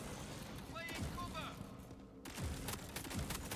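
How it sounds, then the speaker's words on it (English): Video game gunfire, a mix of scattered shots and muffled booms mid-distance with a few sharp bursts, underneath in-game voices and a player talking. "Suppressing fire!"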